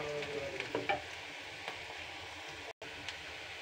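Onions frying in a pan for kalmi shak bhaji hiss quietly in a steady sizzle, with a spoon stirring and scraping in brief scratchy strokes.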